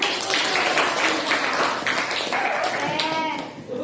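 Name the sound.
class clapping hands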